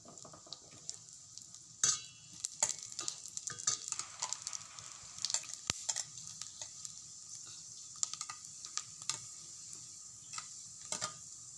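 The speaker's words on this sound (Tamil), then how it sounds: "அது தாளிக்கிறதுக்கு கொஞ்சம் வடகம் போட்டுக்கிறோம்." Vadagam dropped into hot sesame oil sizzles and crackles for tempering, a steady close frying hiss with scattered pops and a few pan clinks, no talking.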